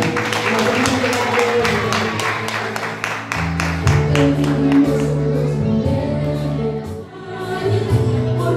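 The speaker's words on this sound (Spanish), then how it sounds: "Un aplauso para ella." Audience at a school graduation clapping steadily for several seconds, a dense patter of hands over music and background murmur, loud and sustained with a brief dip near the end.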